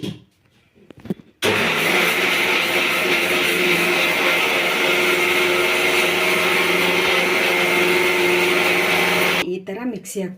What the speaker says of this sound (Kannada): ಈ ಥರ ಮಿಕ್ಸಿ ಹಾಕ್ಕೊಂಬಂದೀನಿ. ಈ ಥರ ಪೌಡ್ರ್ ಮಾಡ್ಕೊಂಡೀನಿ.